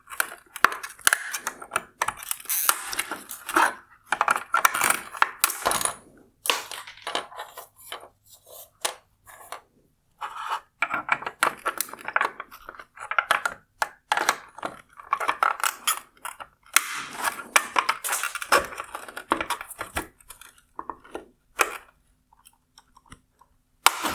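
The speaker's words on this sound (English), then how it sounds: "I will start breaking all of the welds to separate all of the components." Plastic welds on a 2018-2022 Tesla Model 3 inner reverse tail light housing are broken apart, giving irregular cracking, snapping and scraping bursts over a long stretch, some sharp and close, with short quiet gaps between.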